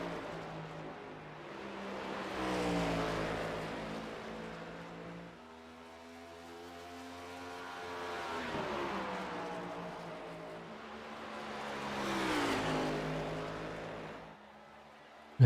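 Race cars in a sim racing qualifying session at the Iowa oval roar past in three separate swells, each engine note rising as it approaches and fading away, with quieter gaps between passes.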